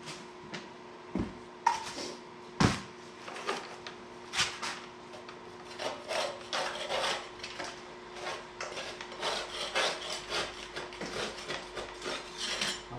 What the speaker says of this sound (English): Get all the loose stuff off with a putty knife